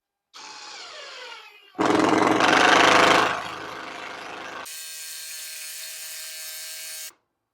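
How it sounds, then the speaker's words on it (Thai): An Osaka OCID821-D1 cordless impact driver whirs, then bears down with a louder, strained grinding burst as it drives a screw into wood, followed by a steady high whine before stopping. "เดี๋ยวมาลองขันสกูกับไม้กันดูนะครับ"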